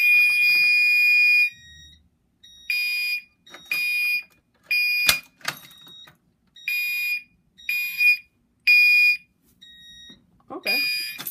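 A new fire alarm panel sounds at low volume in repeated bursts of a high electronic tone, each about half a second to a second long and separated by short gaps, with a brief voice and a few clicks between them.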